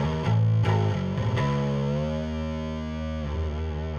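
Bass guitar through a Crush Bass 50 amp with the gain at about 70%, a few picked distorted notes leading into a long sustained growling note that holds steadily, loud and alone.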